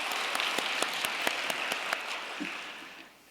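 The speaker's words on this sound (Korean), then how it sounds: "다시 한번 귀한 말씀을 해주신 우리 주인태자님께 감사의 박수를 올려드리겠습니다." A hall audience applauds in thanks at a peace blessing ceremony, a dense, steady wash of many hands clapping with a few sharper claps standing out, then thinning and fading away near the end.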